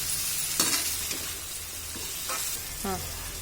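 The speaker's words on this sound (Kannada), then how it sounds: "ಬೇಯಕ್ಕೆ ಬಿಡಿ ಸ್ವಲ್ಪ ಹೊತ್ತು, ಕೈಯಾಡಿಸ್ಕೊಂಡು." Chopped tomato sizzling and frying in a pan for upma, stirred with a few scraping strokes of a spoon over a steady close hiss, no voices.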